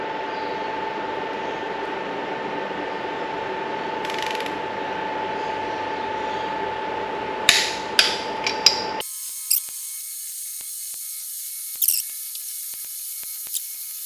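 Torque wrench tightening Toyota 1VD engine head bolts to 80 Newton meters, a few sharp close ratcheting clicks over a steady hum that cuts out, followed by a couple of isolated clicks.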